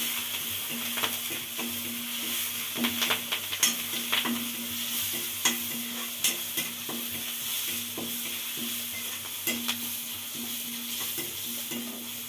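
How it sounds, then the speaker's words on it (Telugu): Curry leaves, green and dry chillies and ginger fry in hot oil with a steady close sizzle, broken by scattered scraping clicks of stirring in the pan. No one speaks. "వేగితే కరివేపాకు, పచ్చిమిరపకాయలు, ఎండుమిరపకాయలు తర్వాత వేసుకోండి అల్లం."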